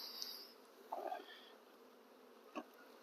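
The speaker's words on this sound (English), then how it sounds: "So you can see there's lots of bees." Honey bees buzzing faintly nearby at a nuc box, a few brief rising drones passing close over quiet background, with a soft thump near the end.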